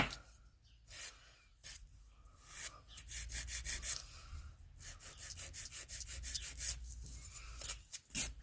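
A nail buffer rubbing back and forth over acrylic nails during a French crystal manicure, producing close, rhythmic scratchy strokes in uneven bursts.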